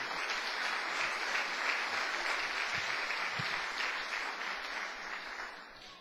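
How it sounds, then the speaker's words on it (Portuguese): A church congregation applauds in praise of Jesus, producing a steady, dense wash of clapping that holds for several seconds before tapering slightly. "Quem pode dar uma salva de palmas para o Senhor Jesus?"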